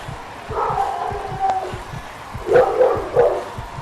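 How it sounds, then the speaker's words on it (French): A dog barks in a few short, close bursts near the end, over a steady rhythmic low thumping and faint background noise. "Il est chiant, le chien."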